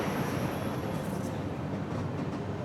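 Jan Shatabdi train rolling into Igatpuri station, a steady near rumble of rail cars with faint squeals and wheel clatter, no voices.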